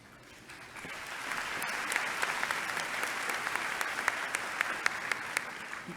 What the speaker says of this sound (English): No reason to hold your applause at this point.